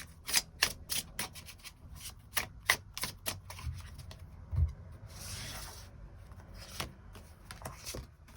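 Tarot cards are drawn and shuffled, with quick close rustles, flicks and slaps of card stock in an irregular run, followed by a softer sliding rub and no talk.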